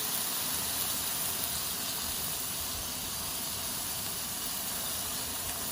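Small thin steaks and pork chops sizzle on a campfire grill at a winter campsite in Oconee State Park, giving a steady, unbroken broadband hiss with no voices.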